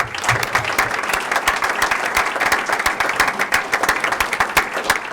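A school board meeting audience applauds district employees honored for 30 years of service, sustained crowd clapping with distinct individual claps, loud and steady throughout.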